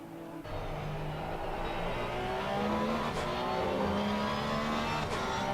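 A Porsche GT3 race car in the ACC sim racing game runs with a loud, sustained engine note that climbs in pitch as it accelerates, with brief tire scrub near the end and no talk.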